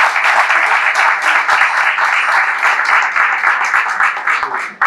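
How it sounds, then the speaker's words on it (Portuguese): A lunch-lecture audience applauds its professors with loud, close, continuous clapping that stays dense and steady for several seconds before cutting off abruptly. "uma salva de palmas para os nossos professores"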